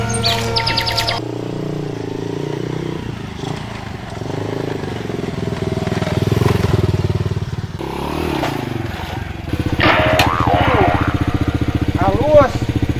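An old motorcycle engine putters and revs nearby, with people talking over it and birds chirping in the background.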